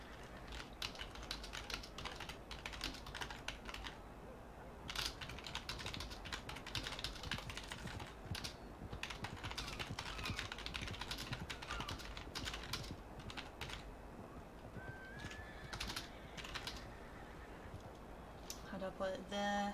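Rapid, irregular keyboard typing clicks run steadily throughout, fairly faint, with background voices and noise mixed in.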